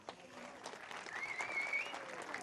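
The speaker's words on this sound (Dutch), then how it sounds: "geef hem even een heel groot applaus" Brief audience applause at a village event, soft distant clapping from a crowd lasting a couple of seconds.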